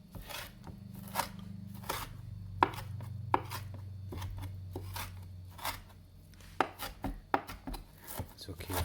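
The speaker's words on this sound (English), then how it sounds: "Chop it up nice and fine." Kale and parsley chopped finely with a knife on a board: a close, quiet series of crisp, irregular cuts and rustling leaves, with several sharper knocks of the blade.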